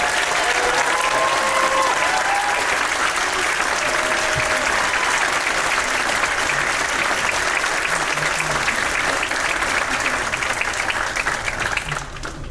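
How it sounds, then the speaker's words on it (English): Sustained applause from an audience at the 2025 NC State materials science department graduation ceremony, loud and dense, continuing steadily for the whole stretch before fading slightly at the end. "Let's give a final round of applause to all of our undergraduates."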